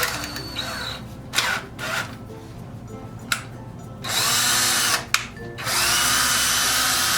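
A handheld drill motor spins a Harbor Freight diamond wheel to sharpen carbide lathe bits, running in steady bursts with brief starts and stops, a loud whining hum with sharp grinding touches as the bit meets the wheel.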